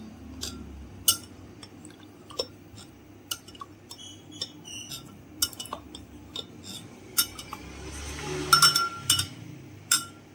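Ice cubes drop into a glass one after another, giving sharp scattered clinks and knocks in a quiet room, close and fairly crisp, with a cluster of rattling clinks near the end.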